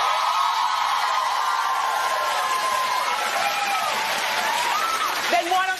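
Studio audience clapping and cheering steadily for several seconds, a dense wash of applause with a few raised voices near the end.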